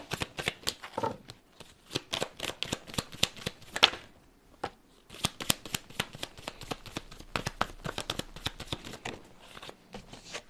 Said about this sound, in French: je vais tirer cette carte